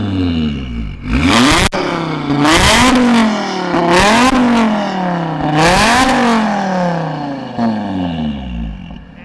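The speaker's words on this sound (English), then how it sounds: "Can you give me a couple revs real quick?" An Audi RS3 engine is revved repeatedly while parked, several loud rising blips with rapid climbs and falls in pitch, close and strong over a steady idle, with one long rev near the middle.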